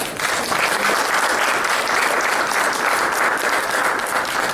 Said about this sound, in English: Give her a round of applause, because she's so great